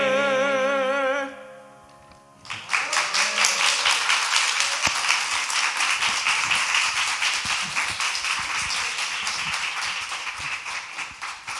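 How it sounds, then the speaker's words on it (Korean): A church congregation at a Sunday worship service breaks into applause after a held musical note fades, many hands clapping in a dense, lively wave that stays steady to the end. "다시 한번 박수"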